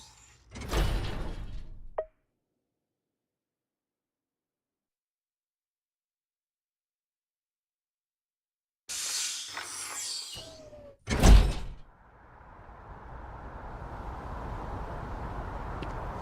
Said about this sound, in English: This is the wrong door.